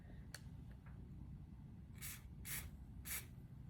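Hair spray hisses onto a wig in three short bursts, each a brief airy spray close to the mic, after a few faint handling clicks.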